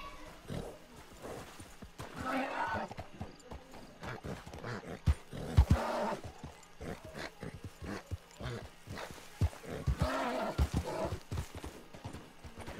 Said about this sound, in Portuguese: Tá aí, amigos, domamos um cavalo, mano, no modo online.